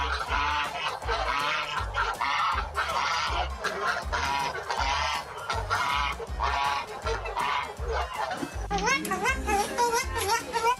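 A cockatoo gives harsh, honking squawks in quick repeated bursts, mixed with a rhythmic background and occasional voices.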